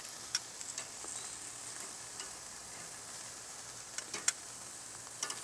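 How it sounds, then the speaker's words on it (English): Garlic shrimp cooking on a Grill Dome kamado grill give off a steady, fairly quiet sizzle and crackle throughout, with a few faint ticks and pops and no voices. "These shrimp are nice and grilled."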